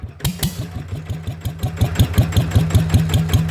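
A motorcycle engine, an ET 95 bored up to 120 with a capsule exhaust, runs close and loud, its steady rapid chugging pulses thumping evenly as it idles.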